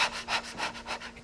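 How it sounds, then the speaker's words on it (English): Rhythmic fire-breath technique demonstration: four or five quick, forceful breaths in a steady pulse, each a breathy rush of air moved in and out, close and fairly quiet with no talk. "So we'll start with the breathing. The fire breath"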